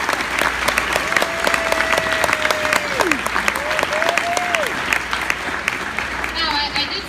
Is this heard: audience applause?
yes